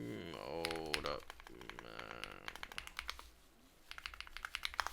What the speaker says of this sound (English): Sorry, I had to type something out.